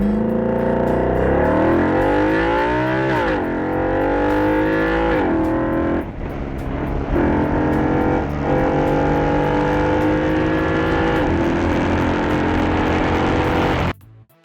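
A 2010 Audi RS5 engine revs and accelerates loudly and close by, its tone climbing through repeated gear pulls with brief dips between shifts, steady and dominant for about fourteen seconds before cutting off abruptly.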